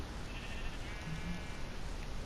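Several sheep on an automatic wool farm in a video game bleat in two or three short, mid-loud calls over a steady background hum, with no talking.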